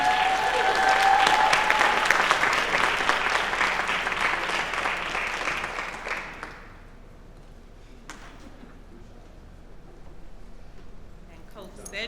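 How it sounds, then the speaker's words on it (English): Audience applause at a debate event fills the room with loud, dense clapping for about six seconds, then fades to scattered claps and quiet, with voices in the crowd. "Let's give them all one big round of applause."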